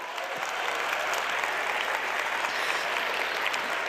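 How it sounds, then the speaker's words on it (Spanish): A TEDx audience in Mexico City applauds women, sustained dense clapping that fills the room steadily and evenly from start to finish, with no voices over it. "Sí, un aplauso para las mujeres."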